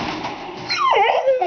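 A big five-month-old puppy named Bjorn whimpers and whines in rising, wavering tones, close and clear, with no talking over it.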